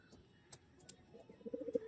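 Tournament-flying pigeons, including a blue-eyed hen, coo softly in a few short low bursts that grow more frequent toward the end, fairly quiet and close with no talking.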